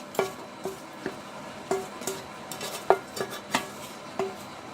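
A spoon clinks and scrapes against a bowl while curd rice is mixed with a sesame-oil tempering. The taps come close together and irregularly over a soft, wet stirring sound, with no voices.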